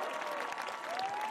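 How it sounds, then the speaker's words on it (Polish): Audience applause at a 2012 school graduation ball, right after the students' dance performance, a steady dense round of clapping from a crowd in a hall, with a faint tone running underneath. "A ja myślę, że należą się jeszcze brawa dla Pana Senewalda"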